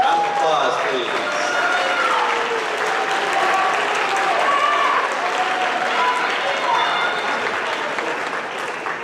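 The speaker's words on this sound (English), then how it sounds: "Round of applause, please." An audience claps steadily at a sixth grade awards ceremony, dense continuous applause with a few cheers and whoops rising over it.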